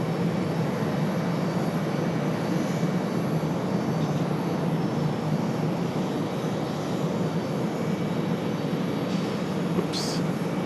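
A Delta Airbus A321neo jet at an airport makes a steady, broad engine roar that holds at an even level throughout.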